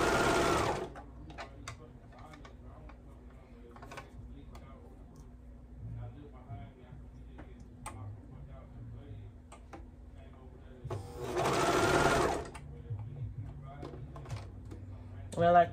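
A sewing machine stitches baby bell bottoms in two short bursts of rapid whirring, at the start and again near the end, with soft ticks and handling noises between them.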